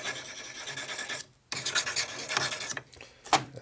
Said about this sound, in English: that knife sucks. Time for a quick resharpening again.